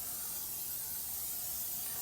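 Spray hissing onto a new Shirley Fabrication 24x60 Straightback griddle during seasoning, a continuous soft airy hiss lasting the whole couple of seconds, faint and steady with no voices.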